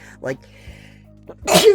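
A single loud sneeze bursts out near the end, close to the microphone, right after brief talking.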